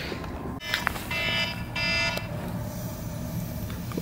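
An alarm goes off at a camp by an Oregon skatepark, a harsh electronic buzzing tone in two sustained bursts over a rumbling outdoor background, with a couple of sharp knocks near the start.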